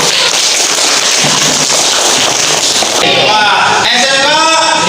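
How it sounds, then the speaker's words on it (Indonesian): A classroom of vocational high school students claps together for a group that just finished presenting, a dense crackling burst of hands filling the room for about three seconds before voices take over. "Tepuk tangan."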